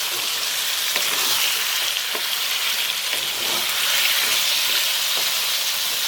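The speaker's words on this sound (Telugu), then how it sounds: "ఇప్పుడు దీంట్లో మనం లివరు కందనకాయలు వేసేసుకుందాం. ఈ అల్లం వెల్లుల్లి పేస్ట్ బాగా పట్టే వరకు తిప్పుదామండి." Chicken liver and gizzards fry in ginger garlic paste in a street-style pan, giving a steady loud sizzle with occasional stirring scrapes, close and continuous throughout.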